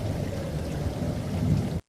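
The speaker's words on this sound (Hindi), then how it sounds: "बरसात की पहली फुहारें गिरी और झोपड़ी के छप्पर से पानी टपकने लगा।" Rain falls on a thatched hut roof and water drips from the thatch, making a steady, soft hiss with a low rumble underneath that runs continuously and then cuts off abruptly.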